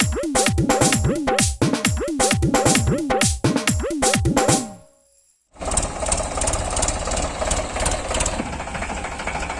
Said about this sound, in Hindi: ऋतिक जी अभी ट्रैक्टर पकड़ रहे हैं बैठने के लिए